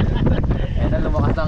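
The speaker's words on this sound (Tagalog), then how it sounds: "Ayan na, lumakas ang hangin." Strong outdoor wind gusts roar steadily across the microphone during an outdoor catch-and-cook session while moringa leaves are being prepared, a dense continuous rush with a voice speaking faintly underneath.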